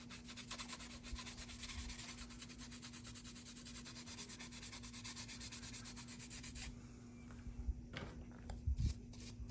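Sanding a plastic AMT 1950 Ford Convertible model car body with 600 grit sandpaper, a steady rhythmic rubbing close by that goes on for several seconds, then gives way to a few sparse scrapes and taps.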